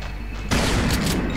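Gunfire erupts in the Brutal Doom video game as a loud, dense burst of shots strikes suddenly after a quiet stretch of ambient hum and then keeps booming to the end.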